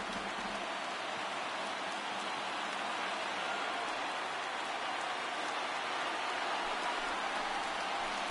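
A huge crowd of over 39,000 stands and roars in a baseball video game stadium. The cheering is a dense, steady wash of noise that holds evenly from start to finish, with no separate voices.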